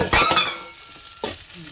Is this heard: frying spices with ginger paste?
yes